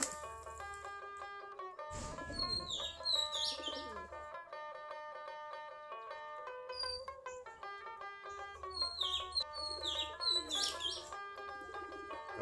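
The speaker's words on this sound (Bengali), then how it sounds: "কবুতরগুলো ধান খাচ্ছে" Domestic Giribaz pigeons feed on paddy grain in hot sun while cooing softly, with bright chirps and twittering of other birds layered over a steady background for the whole stretch.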